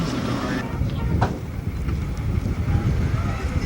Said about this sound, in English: Now we're taking the tram into Epcot. Nice wind I'm gonna get. Yes. Nice wind noise.